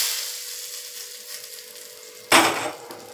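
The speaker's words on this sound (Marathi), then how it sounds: "ही फोडणी आपण या चटणीवर टाकूया" Hot oil tempered with cumin seeds is poured onto raw mango and mint chutney, bursting into a loud sudden sizzle that fades over a second after a quiet stretch.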